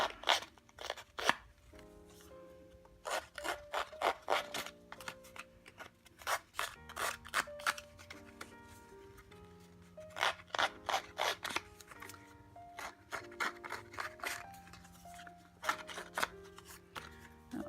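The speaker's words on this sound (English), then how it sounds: "You can also just take a scissors and scruff the edges with that, but I prefer my Tim Holtz distress tool" A Tim Holtz distress tool scuffs the edges of paper card in quick, close bursts of rasping strokes. The scraping comes in irregular groups with short pauses between them, and no one talks over it.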